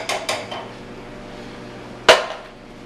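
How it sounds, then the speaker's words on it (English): Drained Bush's pinto beans go into a metal saute pan, with a couple of light clattering knocks followed by one sharp metallic clank of a can or utensil against the pan, close and without talk. "We're going to add this to the saute pan."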